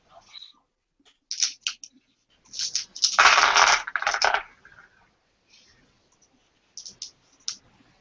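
A handful of eleven dice clatters and rattles in quick bursts during a Shadowrun tabletop session, with a dense tumble in the middle and sparse clicks before and after, close and fairly quiet.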